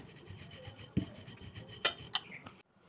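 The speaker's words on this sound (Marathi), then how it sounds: "आता चपाती लाटून झाली" A rolling pin works a wheat and potato chapati dough, making soft rubbing and scraping strokes with a few sharper knocks, close and quiet, before it stops abruptly.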